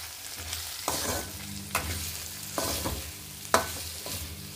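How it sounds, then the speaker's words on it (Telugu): Soy chunks go into a simmering gongura (sorrel leaf) curry and are stirred in a pan. Several distinct scraping stirs land about once a second over a soft continuous sizzle, close up, with no voices. "మగ్గిపోయింది కదా, ఇప్పుడు మిల్ మేకర్ యాడ్ చేసేసుకుందాం."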